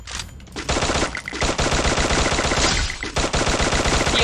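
Gunfire in the mobile battle game Free Fire, loud and nearly continuous, with rapid automatic bursts broken by a few brief pauses and no speech over it.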